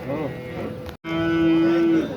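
A cow at a livestock market gives two loud, close moos separated by a brief gap, the second a long, steady low call.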